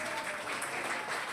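A church congregation at a special Mass celebrating a renovated church in K.M. Savulur claps steadily, a brief continuous wash of applause from many hands filling the space.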